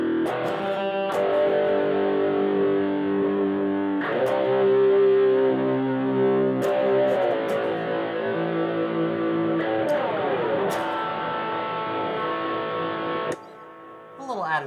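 Distorted electric guitar chords from the Deep Rock Galactic soundtrack ring out in a steady E minor progression, loud and sustained, changing every few seconds before stopping near the end.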